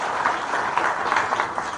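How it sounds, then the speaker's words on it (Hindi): A crowd gives a short burst of applause, dense overlapping claps at moderate volume with a slightly muffled, band-limited quality. "एक बार अपने लिए जोरदार तालियां लगा।"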